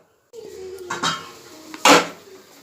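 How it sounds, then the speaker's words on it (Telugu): A lid is closed on a cooking pot of dum chicken curry in a home kitchen. There are two distinct clanks, a lighter one and then a louder metallic clatter, with a faint hum underneath. "మనము ఇప్పుడు ఈ మూత మూసేయాలి"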